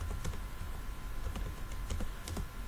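Steady rapid typing on a computer keyboard, a continuous patter of key clicks with a few sharper strokes over a low room hum, no voices.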